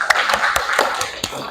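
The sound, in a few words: class applauding a student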